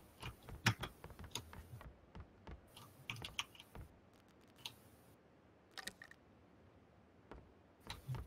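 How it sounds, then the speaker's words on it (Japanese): Fast tapping on a computer keyboard during a PUBG game session, faint irregular clicks in quick bursts with pauses between them, and no talk. "キーボードカタカタしすぎたか。"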